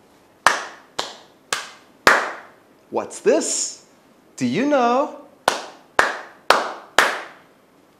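Single sharp hand claps, four in a steady rhythm, then two spoken phrases, then four more claps, loud and close.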